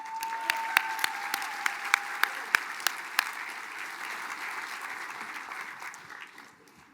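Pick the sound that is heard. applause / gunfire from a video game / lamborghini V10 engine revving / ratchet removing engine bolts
applause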